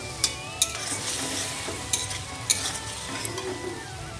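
A masala of ground cumin paste, chili powder and coriander powder with a splash of water fries in a pan for a crab curry. A steady sizzle runs throughout, punctuated by a few sharp clinks of a spoon against the pan.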